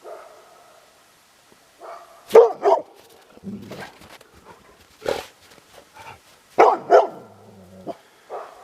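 Dogs outdoors where wolves have been roaming bark in scattered bursts, some sharp, loud barks mixed with softer yips and whimpers over several seconds.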